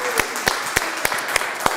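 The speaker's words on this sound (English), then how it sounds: "Let's give yourself a round of applause." An audience at a Salad Master sales training session claps together in a steady, evenly spaced rhythm of sharp hand claps, with faint voices beneath.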